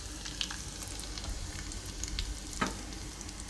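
Cumin seeds sizzling in hot oil over low gas for a tempering, a steady close crackling fry with a couple of brief sharper pops and no speech.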